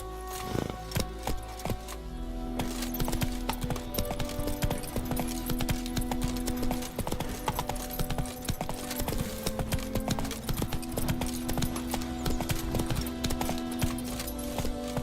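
Roach, a horse in The Witcher 3, gallops in a steady clip-clop rhythm of hooves that runs continuously and close, with music-like tones droning underneath and no talk.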